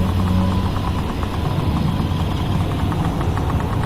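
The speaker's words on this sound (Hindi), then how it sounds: "तभी वहां से एक पुराना ट्रक गुजरता है जो उसी तरफ जा रहा है" An old truck rumbles past as a steady, continuous engine drone with low mid-range throb and faint rattling vibration, fairly close and loud throughout, no talk.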